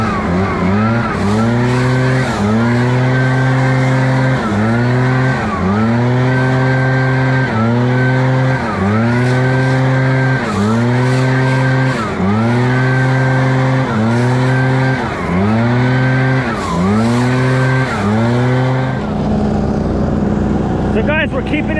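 A leaf blower pushes leaves out of nooks and crannies back onto a lawn during a fall cleanup. Its loud engine revs up and down in a regular rhythm of throttle surges, then settles toward the end.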